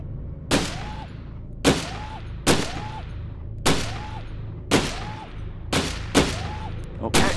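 MP5 gunshots in the Gun Club VR game, S.W.A.T DLC, sharp loud single reports fired one at a time at a steady pace, about eight shots with short ringing tails.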